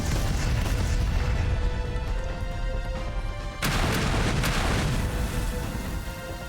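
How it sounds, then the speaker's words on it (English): Explosions erupt in a trench battle in a visual novel game: a continuous loud, roaring rumble of blasts, with a sharp fresh burst hitting midway and the barrage carrying on after it. "Explosions kept erupting again and again."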